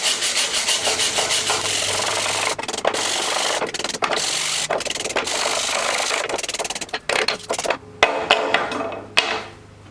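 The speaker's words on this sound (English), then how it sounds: "I'm going to hit them with a steel wire brush" A steel wire brush scrubs hard and steadily over welded Damascus steel billets, a close, continuous harsh rasping that breaks into shorter strokes and brief pauses near the end.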